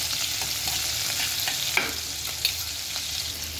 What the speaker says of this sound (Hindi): मैं इसे भून लूंगी।